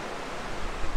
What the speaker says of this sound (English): And you can hear the river flowing there.